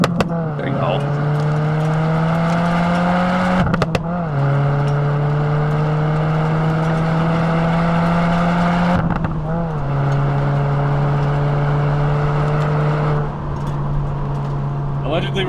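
A Subaru WRX engine revs hard during spirited rally-style driving, loud and close, climbing through the gears in rising sweeps broken by three shifts, with faint talk underneath.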